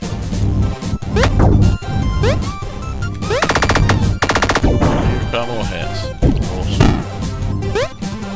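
Repeated shotgun blasts in a video game, sharp loud bursts in quick succession amid clattering impacts and crashes, dense and chaotic over about eight seconds with no talking.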